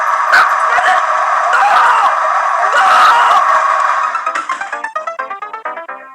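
A small dog yelps and barks excitedly, starting in a dense, loud burst of overlapping cries, then settling into a quick series of sharp, evenly spaced yips that fade toward the end.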